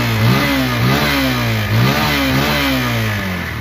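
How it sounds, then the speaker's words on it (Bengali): A second-hand Keeway 150cc dual-disc motorcycle revs up close and loud, its engine note climbing and falling in repeated throttle blips over a steady running hum. "দেখতেই পারলেন বাইকটির সাউন্ড, স্মুথ সাউন্ড শোনায়।"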